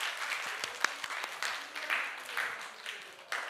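A church congregation claps during a Sunday afternoon service, a fairly quiet, rhythmic patter of many hands with a voice talking faintly underneath.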